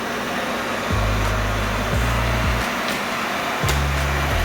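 Steady whirring motor hum with shifting pitch as a Eufy G10 Hybrid robot vacuum runs nearby, droning continuously with brief tonal changes.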